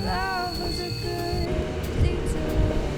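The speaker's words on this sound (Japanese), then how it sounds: "再び列車に戻り出発。" A train in Norway rolls along with a steady rumble of wheels on rails, faint metallic squeals and tones drifting above the noise.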